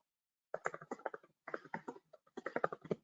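Typing on a computer keyboard during a software demonstration, with quick bursts of close, crisp key clicks broken by short pauses.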